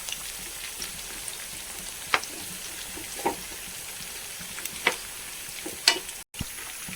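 Slices of elephant foot yam fry in oil, giving a low, even sizzle with a few sharp crackles and light utensil taps, close by and fairly quiet.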